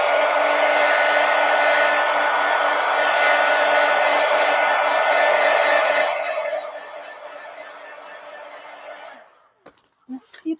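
A hair dryer drying an artwork blows with a steady loud whir for about six seconds, then drops to a lower setting before switching off, followed by a few light clicks and handling noises.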